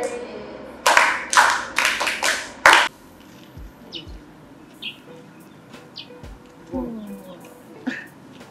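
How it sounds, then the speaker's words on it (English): Several people clap hands in a quick burst of about five loud claps, then it quiets to scattered taps, faint bird chirps and brief voices. "Now clap for yourself."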